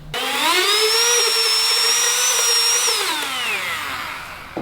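A power tool whose sanding disc has come off spins its rubber backing pad against the inside of a housing. It gives a loud, steady high whine that holds, then slides down in pitch as it winds down.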